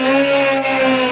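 A Mazda 787B rotary race car engine screams past 10,000 RPM, a loud, steady, high-pitched shriek with a brief dip in the middle.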